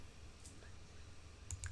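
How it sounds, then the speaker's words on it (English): Two or three quick, faint mouse clicks sound near the end of a quiet stretch, crisp and close, with no talking. "all I have to do is just click,"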